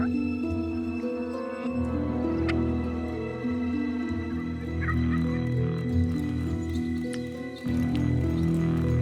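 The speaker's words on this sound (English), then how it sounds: "It sounds like the birds are coming toward our calls," Gould's turkeys call in the Sonoran hills of Mexico during a hunt, gobbling and clucking at moderate distance over a steady, humming background, with a few sharper calls standing out.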